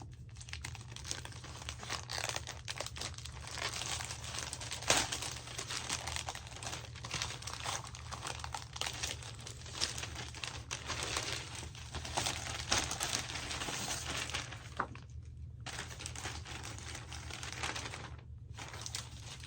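A larger paper envelope is opened and handled, giving steady close crinkling and rustling with sharp crackles throughout, over a constant low hum, with no talking.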